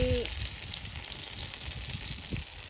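Fish fries in oil in a village-style kitchen, a soft steady sizzle and crackle close by that stays quiet and even throughout, with no talking.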